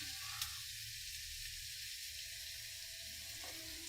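Onions sauté in a pan for Tamil-style fish gravy, making a soft, steady, hissing sizzle throughout with one faint tap near the start.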